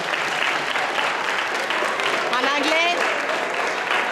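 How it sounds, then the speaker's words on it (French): A crowd at a Sorel-Tracy, Quebec event supporting organ donation applauds loudly and steadily, a dense wash of clapping with a whistle cutting through midway. "j'aimerais qu'on applaudisse Mr. George Marcello"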